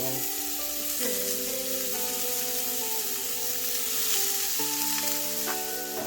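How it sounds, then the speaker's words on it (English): Onions, including the white part of green onions, sizzle steadily in a hot pan, a continuous close frying hiss heard under background music with sustained tones. "Once it's nice and hot, we're going to add our onions."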